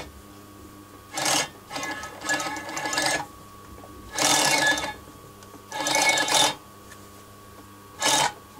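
An industrial sewing machine stitching trousers runs in five or six short bursts of rapid mechanical whirring and needle chatter, each a second or less, separated by quiet pauses, close and fairly loud.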